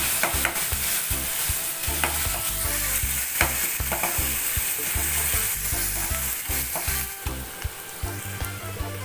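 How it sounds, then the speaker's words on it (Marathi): Dried curry leaves hitting hot oil seasoned with asafoetida in a home kitchen pan, a loud continuous sizzle and crackle with stirring scrapes throughout. "हिंग घालून झाल्यावर कढीपत्ता घालते"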